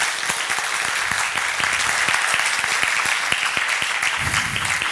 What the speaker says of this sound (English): Please receive and give a big applause to Sam to present bits from the Debian proje